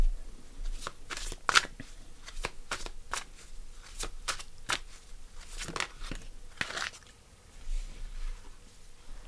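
Tarot cards are shuffled close up in a series of crisp riffling flicks and soft slaps, irregular bursts spread across several seconds with a quiet background between them.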